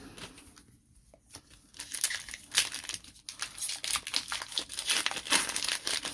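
Foil wrappers of Pokemon Scarlet & Violet 151 booster packs being torn open and crumpled close by, with irregular loud crinkling bursts after a quiet start and no voice.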